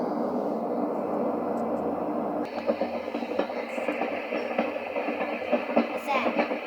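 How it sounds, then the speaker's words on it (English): Train sound from a white noise sound machine, a steady rumbling rail noise that shifts partway through into a busier rattling clatter, with faint voices underneath. "Sounds like a train."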